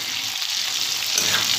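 Pieces of taro root tossed with lemon juice fry in hot oil in a pan, giving a steady, close hiss of sizzling that swells slightly near the end.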